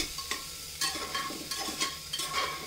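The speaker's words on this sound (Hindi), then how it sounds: "प्याज को हम ब्राउन होने तक भून लेंगे।" Chopped onion crackles and sizzles steadily in oil in a pressure cooker over medium flame, with soft scraping stirs and brief louder bursts every half second or so.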